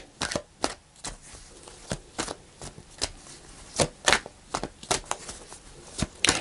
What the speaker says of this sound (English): Let's pull a card